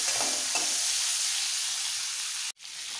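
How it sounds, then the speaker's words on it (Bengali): Capsicum and tomato fry lightly in a pan with a steady hissing sizzle and a couple of soft stirring touches early on, cut by a brief click and a gap near the end; no speech. "ক্যাপসিকাম আর টমেটোটাকে হালকা ভেজে নিতে হবে।"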